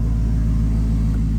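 A 2011 Jaguar XKR with a supercharged 5.0L engine idling after a cold start, heard as a steady, even low rumble with no revving.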